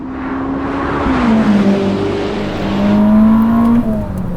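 A Ferrari SF90 Stradale, a 986 hp all-wheel-drive hybrid road car, drives with a loud, close engine note whose pitch rises, dips and climbs again as it pulls, with no talk over it.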